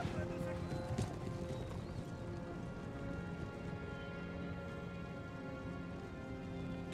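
Cavalry horses charging in the strategy game Empire: Total War produce a dense, steady rumble of hoofbeats, faint and distant, with scattered whinnies over a constant wash of battlefield noise.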